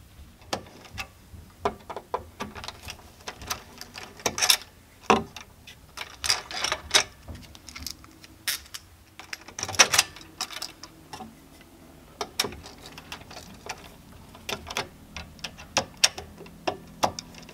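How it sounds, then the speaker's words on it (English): Screws being tightened on a Stranger Things pinball machine make a string of sharp, close ticking and ratcheting clicks in irregular bursts, with no voices. "Whenever you're tightening down these screws, you need them to be snug, but do not over tighten them"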